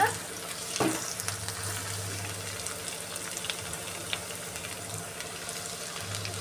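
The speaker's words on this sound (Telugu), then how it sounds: "చూసారు కదండి కొద్దిగా ఫ్రై అయ్యాక" Potatoes fry in a pan for a prawn and potato curry: an even, close sizzle with light stirring clatter and a knock near the start, with no one talking.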